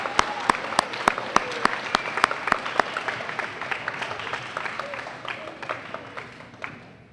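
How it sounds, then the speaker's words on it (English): An audience applauds DARE program graduates at a school ceremony, with sharp distinct claps standing out over a softer crowd of clapping that gradually thins and fades away. "Let's give all of our DARE graduates one more big round of applause."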